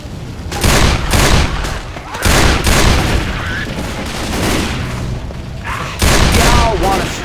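Rapid bursts of gunfire fill a cooperative Left 4 Dead 2 round. The loud, dense volleys come in several waves separated by brief lulls.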